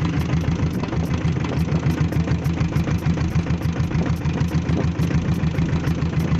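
A Royal Enfield Bullet diesel motorcycle engine chugs steadily at low speed in top gear, a rhythmic thumping idle-like beat with a fast ticking pulse, close and continuous with no talk.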